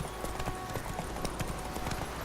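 Horse hooves in the video game The Witcher 3 give a quick, even clip-clop of a trotting gait over a low steady background, moderately close and fairly quiet.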